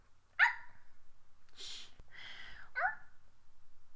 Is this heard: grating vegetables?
no